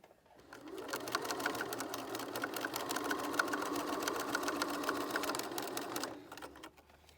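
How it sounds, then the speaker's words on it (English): A sewing machine runs steadily for about six seconds, stitching along the edges of a fabric face mask with a fast, even mechanical chatter, close and alone before stopping. "what you want to do is just sew along the edges."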